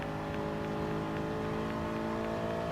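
Race car engines from a Renault Sport Megane Trophy and a Volkswagen Scirocco Group 4 in Gran Turismo Sport, a steady droning whine that holds close and constant throughout with no break or speech.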